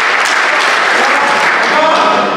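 Wrestling crowd at a COW match claps and cheers loudly throughout, with a commentator's voice faintly mixed into the steady roar.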